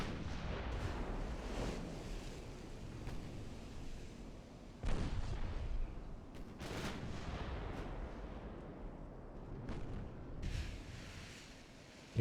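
Warship guns fire on the cruiser Suffolk in Ultimate Admiral Dreadnoughts, a naval battle game set in 1919. Distant booming salvos land every couple of seconds, with some shots louder and sharper, over a low rumbling sea backdrop.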